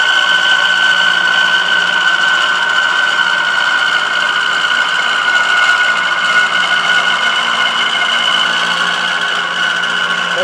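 A rotary head mill cuts a custom planer at about 800 RPM under cool mist, giving a steady, loud machining whine with constant tonal hum, unbroken for the whole stretch and no voices.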